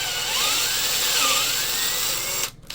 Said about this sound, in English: I'm going to basically just going to drill out this from like here to about right there for our brass tube nipple